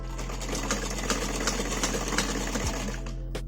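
Electric sewing machine stitching lace trim onto a festival lehenga, a steady close whirring hum with rapid needle ticks running throughout before stopping near the end.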